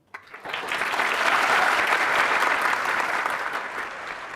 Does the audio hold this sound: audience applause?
yes